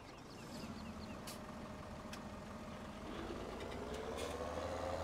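A tractor engine in a farming video game idles steadily at low volume, a faint continuous hum that swells slightly partway through, with a few soft clicks and no speech.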